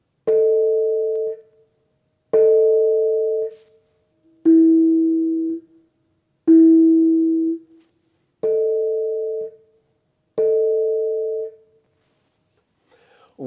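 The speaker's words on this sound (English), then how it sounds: "kanong sounds like this." Kanong, a gamelan gong-chime hit gently, rings out six times at regular intervals, each stroke a clear sustained tone that holds for about a second, alternating between two pitches, close and alone.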